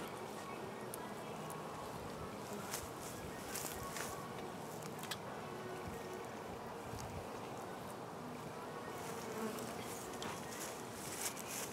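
A honey bee winter absconding swarm fills the air with a dense, continuous buzz, many bees droning close and steady throughout, with some wind rumble underneath.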